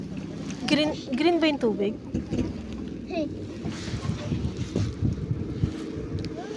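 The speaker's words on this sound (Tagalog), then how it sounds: "ayan na nga guys, umaandar na ang aming bangka." A motorized outrigger bangka runs on open water at a beach, its engine droning low and steady beneath wind buffeting the microphone while people chat nearby.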